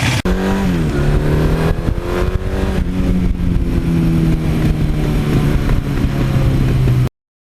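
A 1982 Suzuki GS1100E motorcycle is ridden along freshly paved scenic roads, its engine droning loud and close at a steady pitch after a brief drop in revs, under wind rush.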